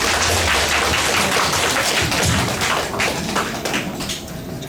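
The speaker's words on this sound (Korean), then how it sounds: "신동익 소장님을 뜨거운 박수로 모시겠습니다." Dense applause from an audience welcoming a lecturer at a cabbage-growing class held by a farm cooperative, steady and loud throughout, then gradually thinning toward the end.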